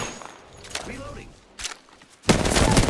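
Enemy gunfire erupts in Apex Legends: scattered sharp shots early, then a loud, sustained burst of automatic fire at the end, with voice callouts and footsteps mixed in.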